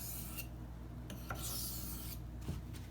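A Spyderco Endura knife with a K390 steel blade rubs back and forth across a fine 2500 grit sharpening stone in several quiet, close, gritty strokes with short pauses between them.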